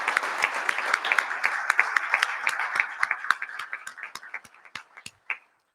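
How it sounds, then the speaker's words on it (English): A crowd claps for winners at a school district excellence awards ceremony, a close, lively burst that slowly thins to a few distinct individual claps and then stops. "Can we just give all of our winners so far a big round of applause?"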